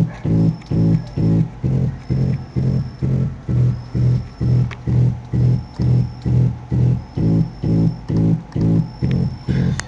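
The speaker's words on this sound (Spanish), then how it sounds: "Escuchen el sonido de bajo." Synthesized bass line programmed in a piano roll, a repeating pulsing pattern of short deep notes in a steady rhythm, loud and close, playing alone with a faint high tone above.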